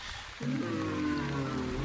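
Soft steady rain from the village-building game The Wandering Village, a gentle patter joined by a low droning tone that swells in partway through and holds.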